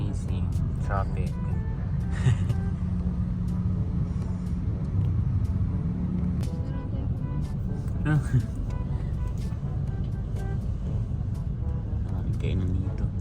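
Inside a car stuck in heavy traffic on the way to Mall of Asia, with a steady low road rumble and engine hum throughout, and people talking now and then over it.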